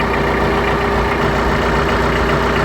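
A tractor engine idles near a farm pig trap, a loud, close, steady low rumble with constant mechanical throb and no voices.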